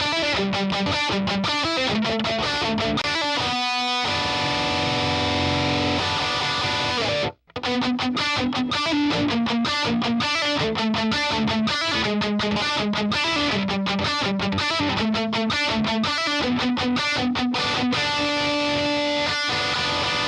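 Distorted electric guitar riffing from an FGN Iliad 7 seven-string fitted with Fishman Fluence Modern pickups, loud and continuous, with chugging low notes and brighter mid-range lines, briefly cutting out once midway.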